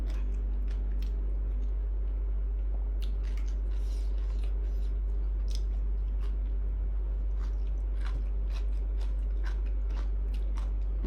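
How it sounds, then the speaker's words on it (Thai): Someone eating Queen-variety cherry tomatoes with a meal of mixed mushroom curry, Lao papaya salad and fried chicken, giving close, repeated crisp bites and moist chewing over a steady low hum, with no talking. "กินมะเขือเทศมะเขือเทศราชินีนี่กิน"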